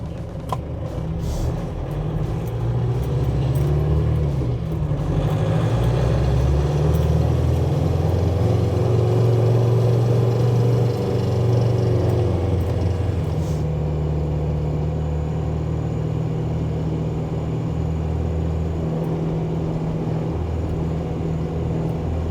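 Toyota Land Cruiser FJ40 with a swapped-in Cummins diesel driving along, a steady low diesel drone that swells in the middle and settles back, heard from inside the vehicle with no talk.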